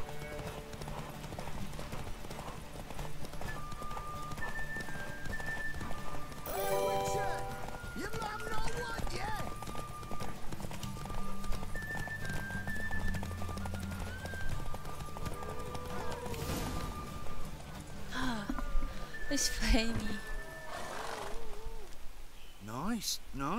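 A horse galloping during a race at Crow's Perch in the video game Witcher 3, with steady rhythmic hoofbeats throughout, an occasional whinny, and other game sounds mixed in.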